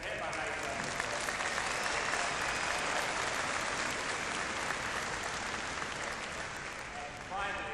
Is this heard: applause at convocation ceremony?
yes